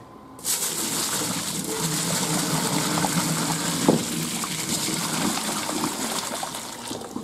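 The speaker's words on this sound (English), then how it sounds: "I'm going to pour the hot water into here right now." Hot water pouring steadily into a kitchen sink, a continuous splashing gush that begins abruptly and runs close and fairly loud to the end.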